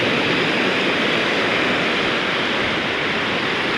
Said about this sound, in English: Oh, big wave.